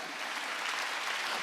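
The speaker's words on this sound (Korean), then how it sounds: "박수 세게 좀 쳐." A church congregation claps hard during a Korean Wednesday worship service, a dense, steady wash of applause from many hands filling the room throughout, with no voices standing out.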